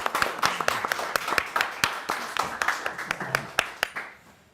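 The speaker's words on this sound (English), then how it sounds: "Round of applause, please, everybody." Clapping rings out from an audience after a talk on designing inclusive VR experiences. The claps are sharp and distinct at a fairly steady rhythm, fade out near the end, and are mixed with a little background voice.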